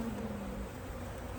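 Honey bees swarm around an opened nuc hive, a steady close buzzing drone that fills the whole moment without pause.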